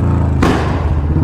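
A sharp exhaust pop bursts out from a Royal Enfield Bullet 350 over its low idling engine, then the engine rumble continues steadily.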